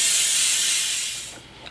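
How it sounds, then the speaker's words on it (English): Can of brake cleaner sprayed over a 4-piston brake caliper, a loud, close, continuous aerosol hiss that holds steady and then tapers off as the spray stops, with no talk. "So grab a can of brake clean and just spray down the entire caliper."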